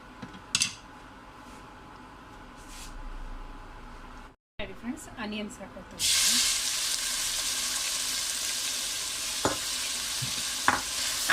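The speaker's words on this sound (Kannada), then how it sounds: "ಗೋಲ್ಡನ್ ಕಲರ್ ಟ್ರೈ ಫ್ರೈ ಮಾಡ್ತೀನಿ" Whole spices such as cloves, cinnamon, cardamom and leaves frying in hot oil, first quiet stirring and clinks, then a loud burst of close sizzling with occasional utensil taps while someone talks.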